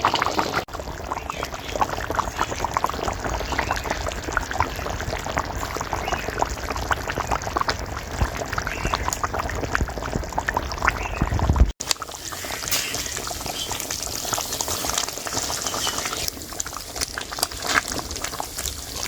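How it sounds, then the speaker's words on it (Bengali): Mutton curry with potatoes simmering in stock in a pot, a steady bubbling and sloshing texture at moderate level throughout, with a brief sharp knock or break partway through. "আর এটাকে আরো 20 থেকে 25 মিনিট ফুটিয়ে নেবো"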